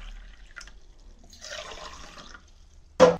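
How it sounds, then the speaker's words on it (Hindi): Water pours into a drinking glass at home, a soft broadband splashing stream for about a second, then a brief loud splash or clatter at the end; no talk. "पानी डालेंगे इसमें।"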